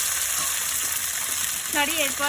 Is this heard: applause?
no